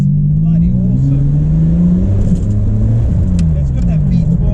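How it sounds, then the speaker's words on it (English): A Ferrari 550 Barchetta's V12 engine hums steadily from inside the open-top car while cruising, a smooth low drone with gentle rises and falls in pitch as it shifts and revs. "It's got that V12 sound."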